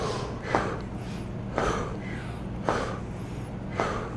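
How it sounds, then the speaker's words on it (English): Rhythmic breathing during a swinging exercise: four strong, evenly spaced breath bursts about a second apart, close and clear, with no talk. "breathing in as it comes one way, and as it dips under, breathing out"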